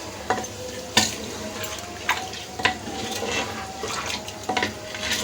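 Mutton and yogurt being stirred in a cooking pot, with a soft background sizzle broken by repeated scraping and clinks of a spoon against the metal at an irregular pace, close and moderately loud.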